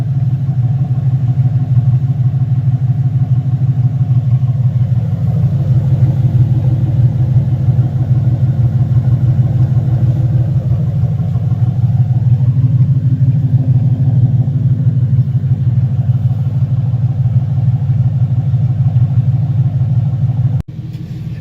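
A 700 whp Ford GT500 with long tube headers, a catted X-pipe and Flowmaster Outlaw mufflers idles with a loud, deep, steady exhaust rumble that swells slightly twice before cutting off abruptly near the end.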